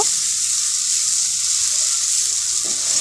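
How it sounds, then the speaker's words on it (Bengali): Ginger garlic paste sautéing in a hot pan, a steady, loud, even sizzle that holds unbroken throughout with no voices. "আদা রসুন পেস্টটা আমি এর মধ্যে দিয়ে দেব দিয়ে ভালো করে এটাকে একটু কষিয়ে নেব"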